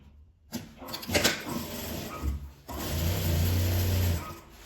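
Sewing machine stitching elastic onto a 3D fabric face mask, with a short burst of stitching followed by a steady, louder run of motor hum, close by and with no speech.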